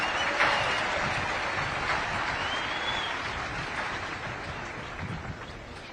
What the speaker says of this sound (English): how about a round of applause for the class of 1975